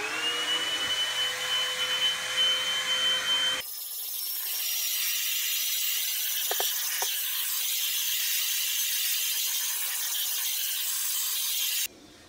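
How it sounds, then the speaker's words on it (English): A vacuum cleaner sucks baking soda off a mattress, a loud steady whine that starts up, runs evenly and cuts off abruptly near the end. "Let's vacuum it up now."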